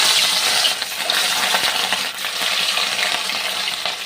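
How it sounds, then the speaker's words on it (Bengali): Rohu fish pieces coated in salt and turmeric fry in hot oil in a wok, giving a loud, steady, hissing sizzle with no voices. "আমি মাছগুলোকে ভালো করে ভাজা করে নেব"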